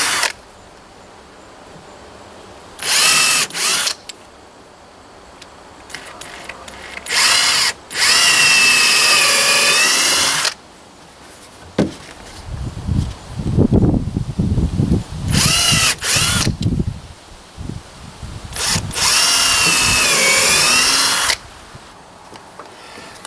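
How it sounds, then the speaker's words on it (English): A power drill pre-drills holes in wooden deck railing, giving several loud, high whining bursts of a few seconds each, with quieter scraping and knocking of the wood and tools between runs. "pre-drill my holes. It stops the splitting."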